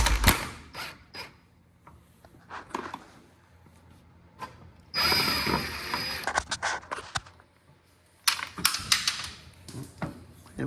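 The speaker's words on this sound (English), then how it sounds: "snap these two little bolts off." Bolts are worked loose with a wrench while a Honda Civic EK hatch suspension is taken apart, giving clustered metallic clicks and ratcheting bursts between quiet stretches, close to the mic.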